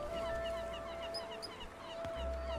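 Seagulls calling in the video game ratJAM 2, a dense chorus of overlapping squawks and honks over a steady tonal hum, continuous and fairly loud with no talking.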